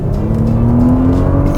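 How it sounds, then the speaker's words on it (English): A Porsche Cayenne e-Hybrid, engine and electric motor working through a Tiptronic gearbox, accelerates hard with a loud, steady rising engine drone heard from inside, alone without talk. "the motor, the engine and the smooth Tiptronic gearbox all combine to propel you forward in an effortlessly quick manner"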